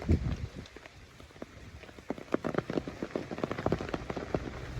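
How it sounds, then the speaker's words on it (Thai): Steady rain pattering on surfaces in a flooded garden orchard with tamarind trees, dense irregular drops close by, building slightly louder through the second half, with no talk. "ฝนยังตกอย่างนี้"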